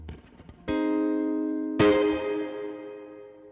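Guitar through a Benson Chimera amp with the reverb fully wet and the dry signal off: two chords ring out one after another, each blooming into a long, washy reverb tail that slowly fades.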